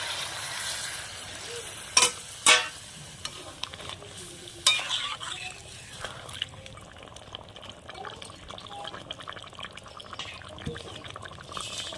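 Home-raised golden chicken curry bubbles in a pan after hot water is added, giving a soft, steady simmer with a few sharp clanks of a spoon against the pan near the start.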